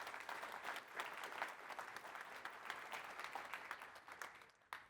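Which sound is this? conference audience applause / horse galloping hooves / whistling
conference audience applause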